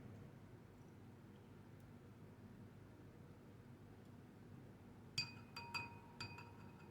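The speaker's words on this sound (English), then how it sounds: "I'm going to use a spoon to push it down to get it soaked in there." A metal spoon clinks against a glass jar of soaking spell ingredients, several light, close taps near the end after a long stretch of faint background hiss.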